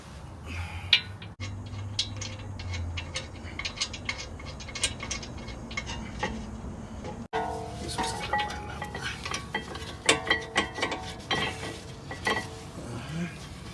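A hand ratchet tightens the bolts on the brakes of a 2007–2013 Acura MDX SH-AWD with a 3.7L V6, producing rapid close clicking bursts with metallic clinks and tool handling between them.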